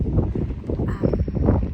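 Strong wind buffets the microphone in a continuous low roar on Parker's Piece in Cambridge, rumbling and gusting throughout with no clear voices.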